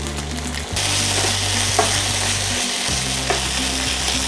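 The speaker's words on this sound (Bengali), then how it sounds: "এই অবস্থায় আমরা এতে দিয়ে দেবো আদা রসুনের পেস্ট।" Ginger-garlic paste hits reddish-browned onions in hot oil for Bengali Dak Bungalow chicken, setting off a loud, close, continuous sizzle. The sizzle starts abruptly and is joined by occasional scraping and stirring clinks.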